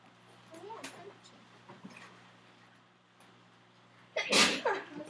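A single loud, sharp sneeze bursts out near the end, following a stretch of quiet classroom noise and faint, scattered voices.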